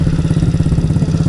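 A small pit bike engine revving close by with a rapid, throbbing idle and light blips of throttle, loud and continuous.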